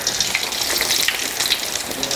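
Fry bread sizzles in hot oil, a dense, continuous crackling and bubbling at close range that holds steady with no voices.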